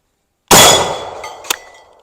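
A single loud black powder double rifle shot rings out sharp and close, followed by a ringing steel target clang about a second later as the report decays.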